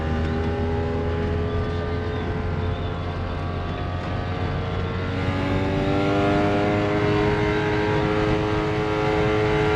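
A Mazda RX4 rotary engine revs under throttle, its loud, close, buzzing drone holding steady before the pitch climbs and keeps rising smoothly as the gas is pressed harder.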